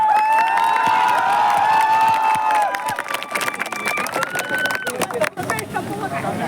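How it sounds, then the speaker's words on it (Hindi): Applause and cheering at a village cricket final's prize ceremony, a loud outdoor crowd clapping under an amplified announcer's voice, thinning into scattered claps toward the end. "तालियां।"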